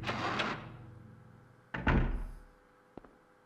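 A door opening in the Silent Hill video game: a heavy thud and creaking swing, then a second louder slam-like clunk, followed by a couple of faint knocks, with no talking.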